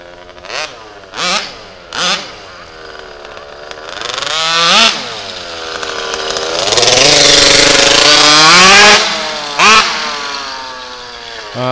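Gas engine of an HPI Baja RCMAX 90GT radio-controlled car during break-in, loud and close, with several short sharp revs followed by longer high-pitched buzzing throttle pulls, then another quick blip.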